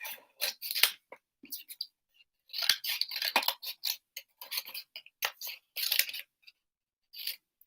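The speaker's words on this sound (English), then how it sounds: "Let's just cut all these little bits out." Small scissors snip out little bits of paper in a craft session, a rapid series of crisp close cutting clicks in irregular bursts separated by brief silences.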